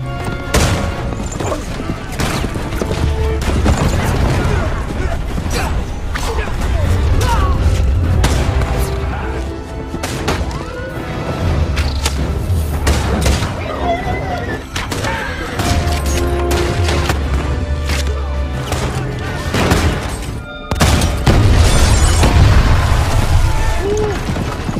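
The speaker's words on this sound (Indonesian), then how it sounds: "Sedangkan Sam, Josh dan kelompoknya mulai beradu tembak dengan para pasukan Bagwe yang mencoba menerobos ke dalam kota Roscraig." A gunfight from a cowboy film set in a town, with booming gunshots, bursts of gunfire and explosions throughout, loud and dense, under someone narrating.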